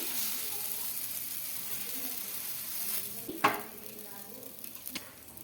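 Jowar flour dosa frying on a hot pan after being flipped and brushed with a little oil, giving a steady close sizzle with a sharp crackling burst midway and a few light scrapes near the end.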